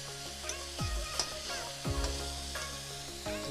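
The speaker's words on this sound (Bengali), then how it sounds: "জলটা দিয়ে দেবো" Sizzling fried onion, ginger and garlic masala in a pan with stirring, under a steady hiss with a few louder bursts and scrapes, close up and without talk.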